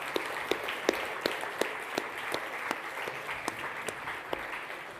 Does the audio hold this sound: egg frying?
no